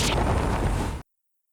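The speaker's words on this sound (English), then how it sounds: "Those firecrackers are more useful than I thought." Firecrackers go off in Ace Attorney: Spirit of Justice, a loud dense crackling burst that runs without a break for about a second and then cuts to silence.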